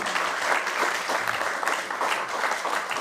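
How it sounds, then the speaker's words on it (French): Steady audience applause at a French poetry event, dense continuous clapping from a sizable crowd filling the whole stretch at moderate loudness, with no speaking. "je vous propose de les applaudir collectivement maintenant"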